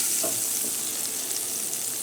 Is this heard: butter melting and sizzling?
yes